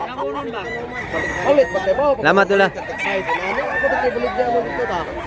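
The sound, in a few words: rooster crowing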